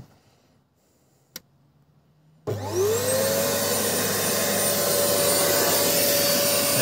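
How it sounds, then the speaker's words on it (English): A vacuum cleaner powered from the vehicle-to-load outlet of a 2023 Kia Niro EV switches on after a quiet stretch and a single click, then runs as a loud, steady whine that holds to the end. "that's how you get your vacuum working"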